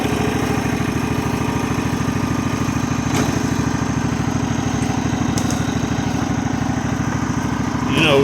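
A Simplicity Regent riding lawn mower runs steadily throughout, its engine giving a continuous loud, close drone with an even rhythmic throb and no pauses.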